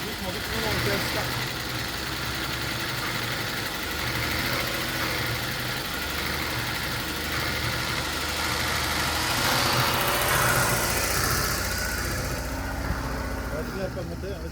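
A car engine idles steadily nearby with a low rumble, rising slightly in intensity as throttle is added while people talk over it.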